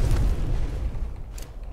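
An explosion in the video game Skyrim during an attack on a fort: a heavy low boom that rolls and fades over a couple of seconds, with a faint later crackle, heard alone without talk.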